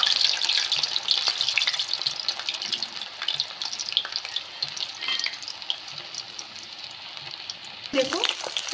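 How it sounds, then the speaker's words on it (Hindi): Pieces of ratalu, purple yam, fry for garadu with a steady, dense sizzle of hot oil. Faint stirring scrapes run underneath, and a brief clatter comes near the end. "हम धीरे धीरे इनको तल लेंगे।"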